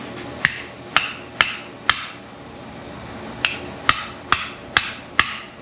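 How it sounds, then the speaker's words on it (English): Metal hammer strikes tap a snap ring into a Warn locking hub on a Ford F250, likely through a screwdriver: four sharp, close blows, a short pause, then five more, each ringing briefly with no talking. "All I did was hit here, and then it pounded that in a little further."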